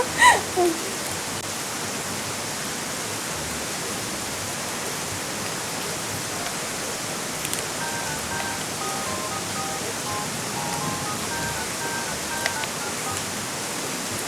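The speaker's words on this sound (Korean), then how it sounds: "지금 비가 내리고 있어요." Steady rain falls outdoors, a soft continuous hiss of drops with a couple of brief knocks at the very start and no one talking.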